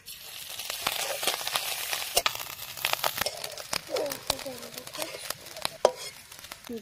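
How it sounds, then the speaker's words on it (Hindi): Grated coconut frying in a hot kadhai, a steady crackling sizzle with scraping stir strokes and clicks throughout, heard close up. "तो कढ़ाई गरम हो गल, पहले हम इन नारियल के फ्राई कर लो।"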